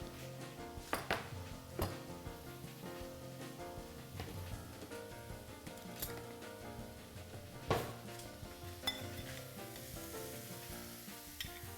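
Two tablespoons of sugar in a dry sauté pan give off a steady, dense sizzle, with sharp clinks and knocks of utensils and cookware scattered through. No one speaks.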